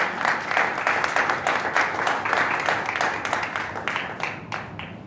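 A church congregation breaks into loud, sustained applause at a New Year service, dense clapping holding steady throughout before thinning slightly at the end.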